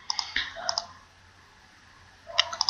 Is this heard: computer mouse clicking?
yes